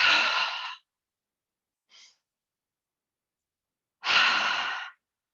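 Two long, breathy exhalations during a gentle breathing exercise, each lasting under a second and heard close and clear, separated by quiet with a faint short breath between them.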